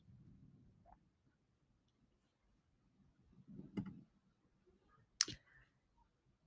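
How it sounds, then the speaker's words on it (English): A computer mouse button clicked in a quiet room, with one crisp click standing out clearly against near silence and a few softer taps and faint rustles around it. "I'm going to go ahead and click the Get Started button."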